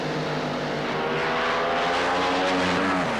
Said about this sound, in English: And Bradley, smoke pouring out of the exhaust pipes as he crosses the finish line, but he takes the win